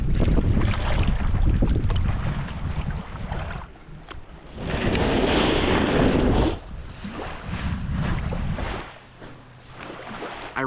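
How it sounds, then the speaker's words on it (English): Strong wind gusting outdoors on Isle Royale, roaring broadband rushes that swell and ebb in waves, with heavy buffeting on the microphone and brief lulls between gusts. "the wind is really starting to pick up right now"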